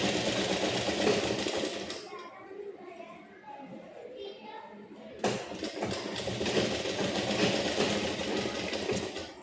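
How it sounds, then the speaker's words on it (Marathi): A sewing machine stitches a Patiala pant seam with a steady, close mechanical whir, pausing for about three seconds of softer handling noise before resuming at full pace. "जोडून घेतला त्याला डबल टाकून घ्यायचे."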